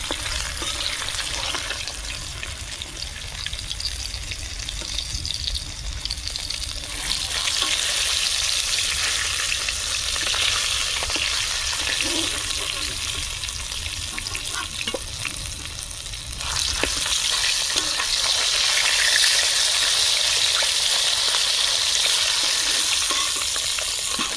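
Pieces of katla fish fry in hot oil in a home kitchen, a steady close crackling sizzle that runs for the whole stretch and swells louder in a few bursts as the pieces are stirred.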